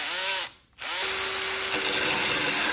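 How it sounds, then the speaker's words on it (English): An electric drill spins a store-bought sharpening attachment against a lawn mower blade, making a steady high whine that cuts out briefly for a moment, then resumes, close and loud. "I purchased this blade sharpening tool from Walmart."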